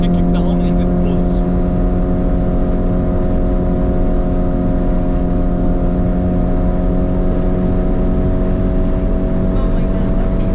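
A 2018 Lamborghini Urus accelerating hard at around 230 km/h under kickdown, heard from inside as a loud, steady, continuous engine drone that stays constant the whole time with strong wind and road noise.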